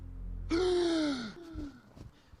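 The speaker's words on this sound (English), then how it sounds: "Why are you gasping like that," A man's sharp gasp as he plunges into cold water, a single loud drawn-out intake of breath that trails off over about a second, followed by fainter, ragged breaths.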